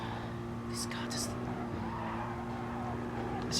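A race car in a racing video game holds a steady engine drone as it rides over curbs, with brief skidding and tire-squeal bursts. A voice talks quietly over it.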